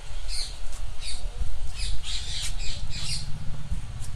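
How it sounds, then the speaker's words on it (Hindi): A flock of parrots squawks in repeated harsh bursts, fairly far off, over a steady low rumble of outdoor background noise. "हजारों तोते देखने का मौका मिलेगा।"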